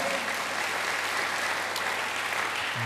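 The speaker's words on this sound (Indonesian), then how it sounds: "Beri tepuk tangan bagi dia." Congregation applause in a church service, a quiet, steady wash of many hands clapping heard from a distance, unbroken and without voices.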